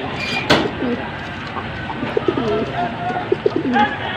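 Blue Ice Pankhi pigeons cooing in soft repeated low calls, close by, with a brief sharp noise near the start and faint background rumble.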